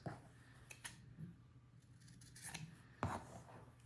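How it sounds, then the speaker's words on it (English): Scissors snipping the corner seam allowances of a button-up shirt collar, a few quiet close cuts and fabric rustles spaced over a few seconds, no speech. "I'm just going to trim seam allowances at the corners."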